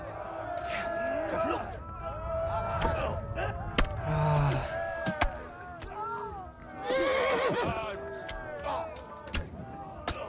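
Repeated horse neighs and whinnies in the video game Kingdom Come: Deliverance, some shrill and drawn out, amid hoofbeats and busy game noise, with people talking throughout.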